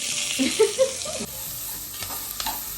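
Lentils frying in a pan for a Tamil salt-ball snack, a steady hiss of oil with a few louder stirring scrapes near the start, close and alone.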